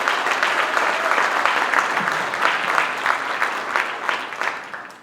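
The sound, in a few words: audience applause at a conference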